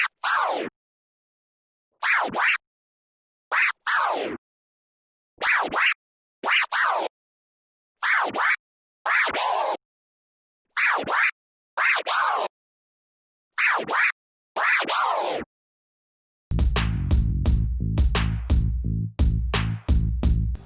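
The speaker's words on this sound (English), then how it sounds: "So combining the forward slice to the reverse slice is called a seesaw" Repeated pairs of quick forward-and-back scratches from a turntable record chopped by a crossfader, crisp and evenly spaced with silence between, ending in a steady beat-backed stretch of rapid scratching.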